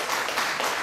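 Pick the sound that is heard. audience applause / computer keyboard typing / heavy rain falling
audience applause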